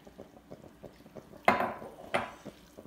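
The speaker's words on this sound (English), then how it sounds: "Now I'm going to pour in my warm chicken stock." Warm chicken stock poured into a pan of sizzling rice for Creole dirty rice: soft bubbling and sizzle, then two sharp splashing pours close by.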